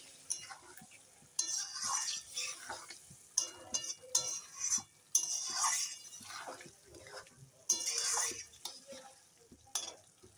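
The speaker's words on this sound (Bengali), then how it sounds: "এখন ভালো করে নেড়ে নেই।" A spoon stirs curry with turmeric in a pan, giving intermittent scraping bursts and faint sizzling at close range, with a voice speaking between strokes.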